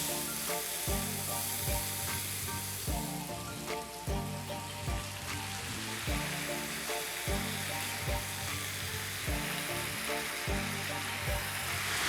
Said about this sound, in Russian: Мы отправили обжариваться самые грубые жесткие овощи.